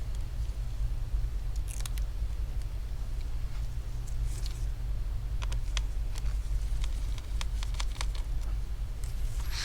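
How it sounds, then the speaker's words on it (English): A cable is unplugged inside an HP Omen 15 EK0013DX laptop during a teardown: scattered small clicks and light scraping ticks rise over a steady low hum. "So let me disconnect this cable."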